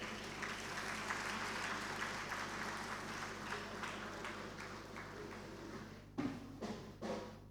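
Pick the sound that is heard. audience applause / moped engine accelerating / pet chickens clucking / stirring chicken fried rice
audience applause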